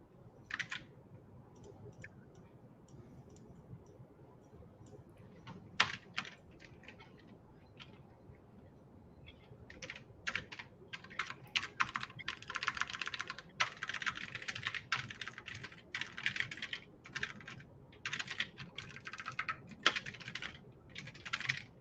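Clicky keystrokes on a mechanical keyboard patter in bursts, sparse at first and then quick and steady, faint and close by, with no talking over them.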